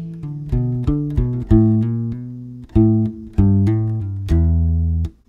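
A short bass and drum fill: a quick run of distinct bass notes locked to drum hits, close and loud, ending on a held note.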